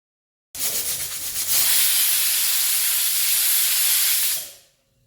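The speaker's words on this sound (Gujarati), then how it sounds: "કુકરનું ઢાંકણું બંધ કરી 3 વિસલ સુધી રાખીશું" A pressure cooker of Kathiyawadi vaghareli khichdi with lemon juice lets out one long, loud steam whistle. It rushes in with a fluttering start, holds steady for about four seconds, then cuts off abruptly, with no voices.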